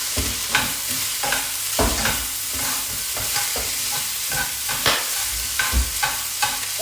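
Vietnamese rice noodles stir-fried with sriracha sauce in a hot pan: a steady sizzle under repeated scraping and tossing strokes from a utensil, close and fairly loud, with no talk.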